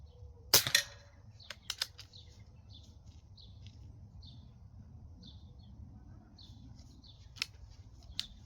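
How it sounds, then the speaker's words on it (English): An SMK 501 air rifle fires a single sharp, crisp crack near the start in a quiet outdoor setting, followed by a few fainter clicks and distant bird chirps. "I'll do a little bit of air rifle shooting as well."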